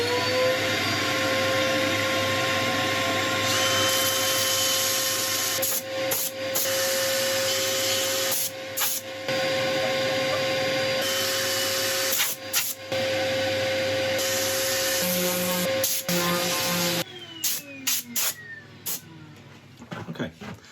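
Power sander working a wood burl on a woodturning project, a steady loud whirring grind with brief interruptions, running continuously before winding down near the end.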